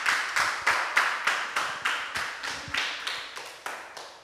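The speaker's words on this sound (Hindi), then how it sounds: "इसके लिए हम सब एक बार जोर से फिर से आपके लिए ताली बजाते हैं" An audience claps together in a steady rhythm, about three even beats per second, moderately loud and sustained across the whole stretch.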